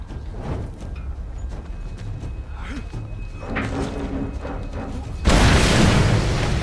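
Explosions from the Mad Max video game thud through a noisy driving scene, and a big blast near the end swells into a loud, sustained roar.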